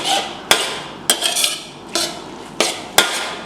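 Noodles being stirred in a pan over low heat, giving six sharp utensil clacks against the pan at roughly half-second intervals, each followed by a short scraping rustle, close and fairly loud with no talking.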